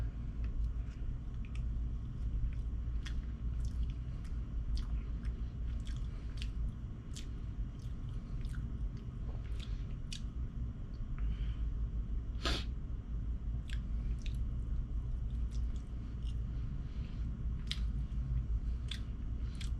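Close, wet chewing of cooked trash fish, soft squishy bites and crunchy clicks repeating irregularly over a steady low background hum, with no talking.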